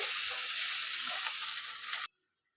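Fish curry broth with shing and koi fish bubbles hard in a pan, a steady close hiss and sizzle lasting about two seconds before cutting off abruptly.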